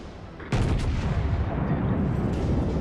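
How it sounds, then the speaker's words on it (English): A North Carolina battleship in World of Warships fires a main gun salvo: one sudden heavy boom, then a long, loud, rumbling roar that stays close and fills the whole moment. "I'm going to try and get one more salvo off on this guy first"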